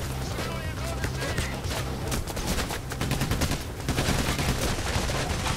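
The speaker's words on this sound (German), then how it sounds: "Ich werd von irgendwo beschossen" Dense automatic gunfire in the video game Payday: The Heist, rapid loud crackling bursts running almost without a break, with someone talking over the shooting.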